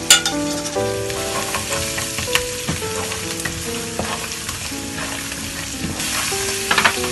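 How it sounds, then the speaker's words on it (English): Masala with kasuri methi sizzles and crackles steadily in a hot pan, with occasional clinks and scrapes of stirring. "After frying the masala for a little while"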